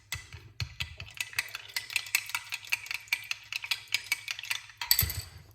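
A spoon stirs a drink of raw organic honey, tapping and clinking against the glass in a quick, steady rhythm of light ticks, close and clear, with no talking.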